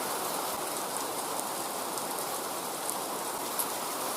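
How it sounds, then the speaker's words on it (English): Hail and rain fall outside a British woodland camp, a steady bright patter on a surface with occasional sharper individual hits, continuous and close, with no voices. "The great British weather. We have hail."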